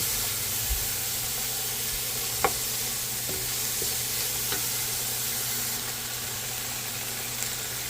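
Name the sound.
seasoning cooking and sizzling in pan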